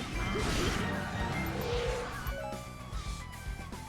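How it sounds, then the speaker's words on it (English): Heavy smash attacks crash and thwack against a boss's weak point in the Hyrule Warriors video game, loud and impactful, with layered game effects and rumbling hits. "I will take well-timed weak point smashes."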